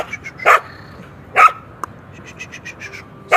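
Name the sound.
dog barking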